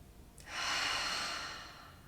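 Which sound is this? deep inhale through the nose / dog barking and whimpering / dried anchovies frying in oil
deep inhale through the nose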